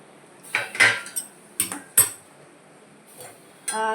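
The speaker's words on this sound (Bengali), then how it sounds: "আমি একটু কড়াটা খুলে নিচ্ছি" Metal lid lifted off a kadai wok while cooking a sweet potato and pointed gourd hing curry: several sharp clanks and scrapes of metal on metal, spaced irregularly, close and fairly loud with quiet gaps between.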